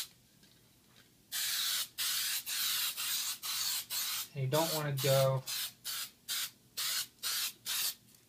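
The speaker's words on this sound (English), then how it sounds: "So we're going to take it, I'm just going to spray it." Spray adhesive is applied to craft foam for wrapping in spandex in a spray area: a quick series of about ten short hissing bursts in a regular rhythm, with a person speaking briefly between sprays.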